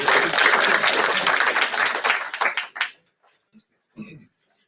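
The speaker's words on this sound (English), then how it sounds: "he'll take a round of applause" A crowd at a school board meeting applauds a teacher, a dense burst of clapping for nearly three seconds that fades away, followed by a few faint scattered sounds.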